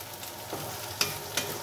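Soft steady sizzle of food frying in hot oil, with a couple of sharp pops or utensil clicks partway through.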